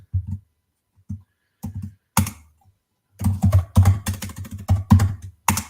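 Bursts of close computer-keyboard typing while writing code, quick clusters of key clacks separated by short pauses, then a denser, louder run of keystrokes toward the end, with no talking.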